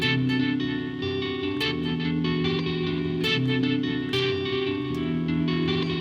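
Distorted electric guitar plays sustained, chorus-laden notes over a looped backing in a volume-swell lesson, full and continuous with echoing repeats.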